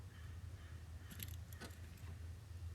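Original keys and an accessory key for a 1972 Porsche 911T jangle briefly and quietly in a few light metallic shakes over a low, steady hum.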